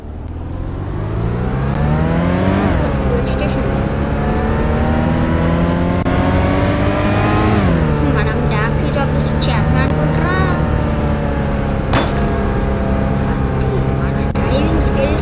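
Taxi car driving through snowy mountains in Roblox Taxi Boss: a loud, steady engine drone that rises in pitch as it revs and shifts, repeatedly climbing and dropping, with a voice talking over it.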